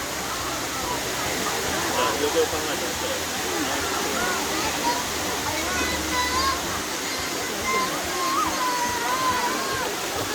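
Sai Yok Noi waterfall in Kanchanaburi pours in a dense steady rush of water, close and broadband, while someone speaks over it.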